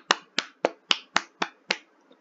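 Seven sharp hand claps come in a steady, evenly spaced rhythm, close and crisp, with clean silence between each.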